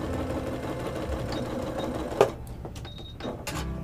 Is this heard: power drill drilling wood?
no